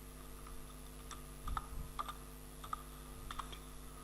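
Light clicking on a computer keyboard during logo design work, a few soft scattered keystrokes at close range over a steady electrical hum, with no talk.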